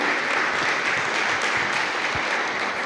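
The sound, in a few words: congregation applauding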